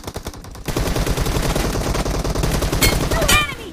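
Rapid automatic gunfire in a battle royale video game, loud and close, in long continuous bursts with a few sharp ricochet-like whines near the end, briefly under faint talk.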